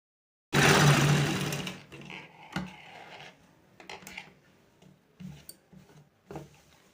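An electric sewing machine runs in a loud burst of stitching while a basting seam is sewn on a round-skirt panel, followed by softer intermittent runs and clicks; no talking.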